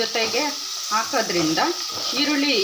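Onions frying with salt in a pan, with a steady sizzle beneath repeated stirring scrapes that sweep up and down in pitch, close and fairly loud, with no talking.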